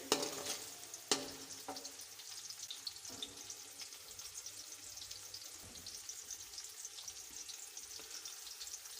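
Chopped ingredients frying in a pan during village-style aloo moongre cooking, a steady soft sizzle with a few sharp clinks of stirring near the start, no talk.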